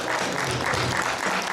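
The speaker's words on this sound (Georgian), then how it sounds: "ორი პირველი აპლოდისმენტები ბატონ თამაზ ვაჭუკორ." Applause from an audience at a children's New Year festival concert, a steady dense clapping that fills the whole moment without a break, loud and close.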